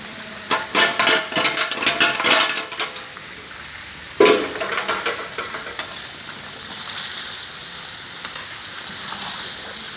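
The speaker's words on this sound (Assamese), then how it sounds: "মই আলু অলপ ফ্ৰাই কৰি লৈছোঁ" Potato pieces sizzle and fry in a pan for a chicken masala gravy, with bursts of crackling and utensil scraping and stirring in the first half, then a steady, softer hiss.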